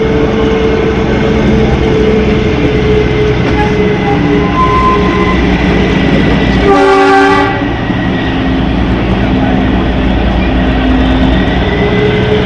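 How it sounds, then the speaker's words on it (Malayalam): A Kalka–Shimla toy train pulls into Shimla railway station in Himachal Pradesh after its 94 km mountain run, its steady rumble and rail clatter carrying throughout, with a loud horn blast breaking in about two-thirds of the way through. "ഹരിയാനയിലെ കാൽക്കയിൽ നിന്ന് 94 കിലോമീറ്റർ കവർ ചെയ്ത് ഹിമാചൽ പ്രദേശിലെ ഷിംല റെയിൽവേ സ്റ്റേഷനിലേക്ക് ട്രെയിൻ എത്തിക്കൊണ്ടിരിക്കുകയാണ്."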